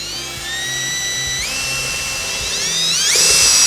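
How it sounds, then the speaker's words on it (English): A power drill drives a long drywall screw through a wooden box and into the box above, a loud close whine that climbs in pitch in two steps as the screw bites and speeds up. "I'm just gonna drive the screw through the box, right up into the box above it"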